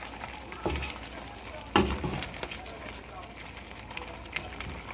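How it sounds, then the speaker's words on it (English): Assorted meat Nigerian pepper soup is stirred in a pot, with a few distinct scraping knocks and soft bubbling over a quiet background while a person talks. "So I'm gonna go ahead and stir like I'm doing so."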